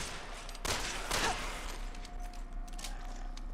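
Rapid bursts of gunfire crack out in co-op Resident Evil 6 as players shoot down an enemy, with a loud volley followed by a second burst and scattered fainter shots.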